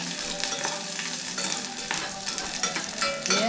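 Onion frying in a hot pan over a raised flame makes a loud, dense sizzle, with scraping stirs breaking through the continuous hiss.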